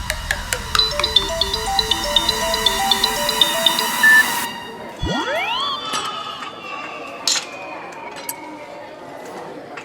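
A mobile phone ringtone plays a repeated melodic pattern of electronic tones during the first few seconds in an indoor scene, followed by rising sound-effect sweeps and scattered pings, with people talking.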